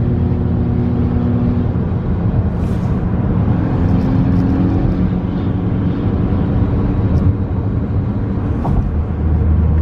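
A car struggles to gain speed on a wet road, its engine a steady low drone with tire and road noise beneath, heard from inside the cabin with no one talking.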